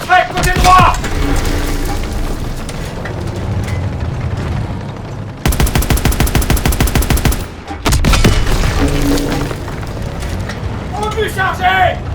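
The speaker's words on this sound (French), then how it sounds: "Un lanceur allemand nous tire dessus!" Gunfire from a World War II battle in the Call of Duty: WWII game: dense rattling bursts and a sustained rapid-fire stretch, loud and close, mixed with shouted voices.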